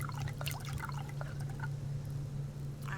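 Water poured onto plants in the survival game Subsistence, a soft steady trickle with faint drips over a constant low hum, close and moderately quiet.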